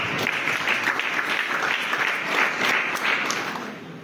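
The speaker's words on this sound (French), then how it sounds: "Acclame pour Jésus-Christ." A church congregation applauds for Jesus Christ, dense sustained clapping that fills the space evenly for several seconds and tapers slightly at the end.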